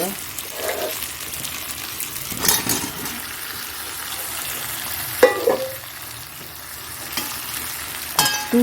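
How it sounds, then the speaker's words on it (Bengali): Fried meat with potatoes added in a pan, a steady sizzle with stirring and occasional clinks of a utensil, some faint talk underneath. "আলুটাও দিয়ে দিচ্ছি কারণ যেহেতু মাংসটা ভাজা ছিল"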